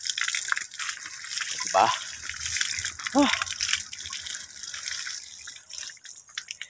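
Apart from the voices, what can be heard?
water gushing from a hand pump well near the sea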